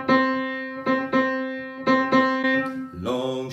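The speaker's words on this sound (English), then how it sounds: "So a syncopated rhythm may sound something like this." Piano playing a syncopated rhythm on one repeated note, struck in an uneven long-short pattern with notes ringing and decaying between hits, ending on a lower chord, clear and close with no talking.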